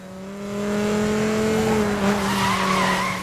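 An SRT Viper GTS in Need for Speed holds a steady droning engine note that swells and sustains, with tire squeal rising over it, loud and close.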